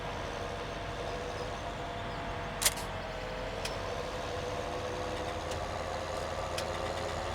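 A small tractor in Farming Simulator 17 hauls a harvester and topper, its engine holding a steady low idle-like drone throughout, with a brief sharp click near the middle and a few faint ticks later.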